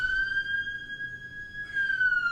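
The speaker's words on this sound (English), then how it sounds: "Oh, there's a siren." A siren outside sounds a long, steady wail held faintly in the distance, bending slightly in pitch as it passes by, with no voices over it.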